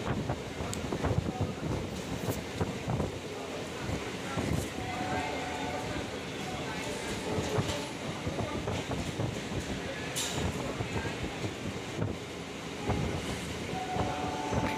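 Kolkata circular railway train running between Dum Dum and Majerhat, a steady rumbling ride with rattling carriages and wind noise throughout, with brief horn-like tones and some faint voices at a distance.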